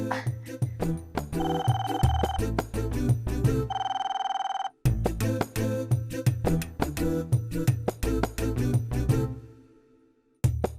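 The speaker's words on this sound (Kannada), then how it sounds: "ಮಧುರ ಅವ್ರೆ ಫೋನ್ ಮಾಡಿರ್ಬೇಕು." A phone ringtone plays a loud, repeating electronic melody in steady bursts, pausing briefly before resuming, then trailing off into silence at the end.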